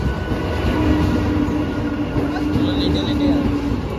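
A local train on the Hasnabad line pulls into a station with a loud, steady rumble and faint rail hum, while background voices murmur on the platform.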